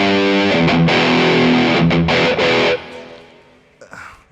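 Electric guitar runs through a Maxon pedal into a Suhr Riot distortion pedal, playing loud, tight distorted chords in a few sharp strikes before ringing out and fading, then a quieter final touch.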